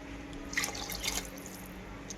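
Water is poured by the glass into a pot of rice in a few brief close splashes and trickles, moderately faint against a steady low hum.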